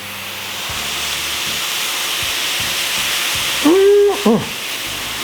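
Steady steamy hiss of boneless chicken thighs on a hot Blackstone griddle with faint low thumps, then a brief loud tonal whistle-like burst near the end.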